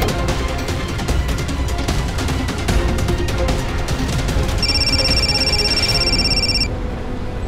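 A steady electronic phone ringtone chirps for a couple of seconds over a busy, noisy background, then stops.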